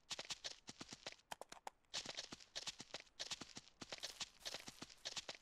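Horse hooves clip-clop in a fast, irregular rhythm as a horse is ridden in the video game Ranch Simulator, crisp and close, with no talking.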